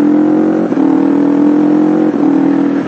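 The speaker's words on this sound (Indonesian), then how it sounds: "kalau ngurangin gigi dia akan ngegas sendiri" A Honda CBR250RR motorcycle engine holds a steady mid-pitched drone, with two brief automatic throttle blips from a quickshifter on downshift, spaced about a second and a half apart.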